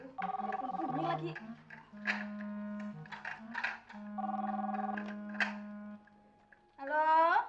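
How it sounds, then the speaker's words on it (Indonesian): A telephone rings in repeated electronic tone bursts, loud and close, with brief pauses between rings and a short warbling trill at the end. "Telepon bunyi lagi."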